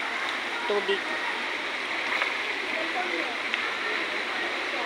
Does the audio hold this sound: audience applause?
no